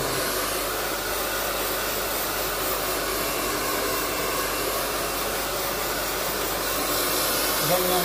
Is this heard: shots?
no